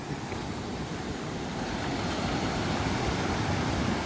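Surf washes onto the sand at Kovalam Beach as a dense, hissing rush of breaking water that swells gradually louder toward the end, with some wind buffeting the microphone.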